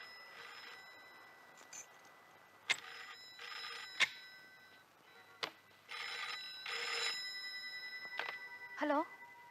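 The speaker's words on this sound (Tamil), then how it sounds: "நம்ம ஃபோன் தான்." A telephone rings indoors in a Tamil film scene, several repeated ring bursts with pauses between them, fairly faint, with sharp clicks and other scene sounds around them.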